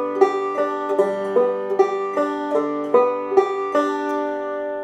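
Bright plucked banjo notes ring out in a steady, even eighth-note alternating roll, each pluck sharp and quick, forming a repeating cascade of alternating strings.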